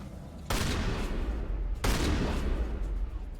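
Loud shotgun and sniper rifle fire from the Mass Effect video game: two sharp, heavy blasts about a second and a half apart, each leaving a long rumbling tail, with no talking.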